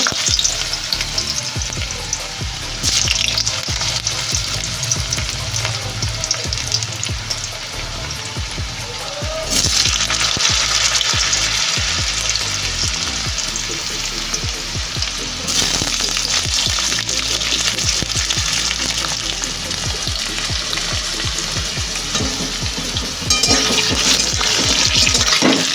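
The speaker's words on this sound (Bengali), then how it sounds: "এবার আলুটা ভাজা করব, তারপরে ফুলকপি ভাজা।" Potato pieces fry in hot mustard oil in a home kitchen, a loud continuous sizzle with bursts of crackle and occasional clinks of stirring, with no talking.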